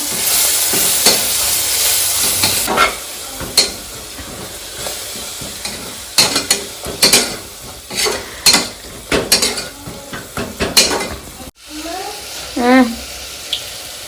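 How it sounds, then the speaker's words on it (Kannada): Sambar powder being fried and stirred in a pan for tomato rice, a steady sizzle under repeated scraping and tapping of the spoon, close by, with someone speaking over parts of it. "ಇವಾಗ ನೀಟಾಗಿ ಫ್ರೈ ಮಾಡ್ಕೋಬೇಕು"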